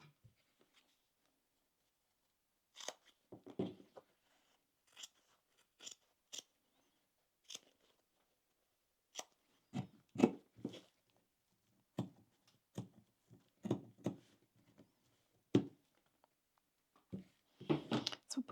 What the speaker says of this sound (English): now we're going to do the same and cut out the fabric around the inside.